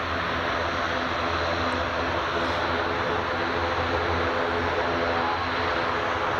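A Jet2 airliner departing Glasgow Airport gives off a loud, continuous broadband engine roar, steady and unbroken from start to end with no speech.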